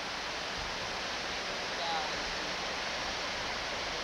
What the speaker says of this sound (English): This is the gentle little waterfall that Jeff and I climbed over.